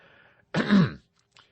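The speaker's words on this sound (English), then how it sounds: "having coughed once or twice, he said" A man clears his throat once with a short, close, gravelly cough after a faint lead-in, followed by a small click in an otherwise quiet room.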